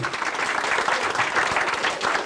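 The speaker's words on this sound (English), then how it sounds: "Give a big round of applause for making it to 70 years old." A party crowd applauds a man's 70th birthday in Prestatyn: dense, steady clapping that fills the room at full loudness for the whole stretch, with no gaps.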